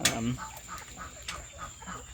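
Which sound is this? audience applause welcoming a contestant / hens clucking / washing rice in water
hens clucking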